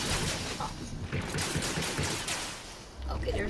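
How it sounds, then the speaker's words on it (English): Rapid bursts of gunfire crackle loudly and continuously in Fortnite Chapter 3, dense overlapping shots filling the whole moment with a brief dip before resuming. "Okay, they're shooting this."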